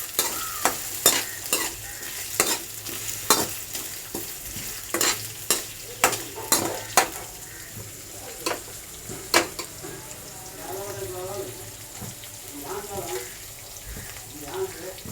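Onions sauté in a pan for a Telugu dry-shrimp and brinjal curry, sizzling steadily while a spoon scrapes and knocks the pan in repeated sharp clatters. A voice talks briefly over the cooking.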